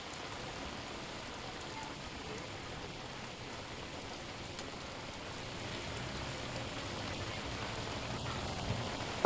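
Steady heavy rain pours down in Warangal, a dense continuous hiss of drops on surfaces without pause, moderately loud and unbroken throughout.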